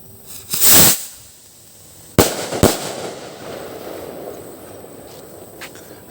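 A regular silvertail firework is lit outdoors and goes off: a loud rushing hiss as it launches, then two sharp bangs a second later, followed by faint crackling fading into background noise.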